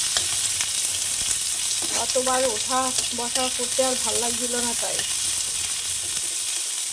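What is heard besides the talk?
frying onions in a pan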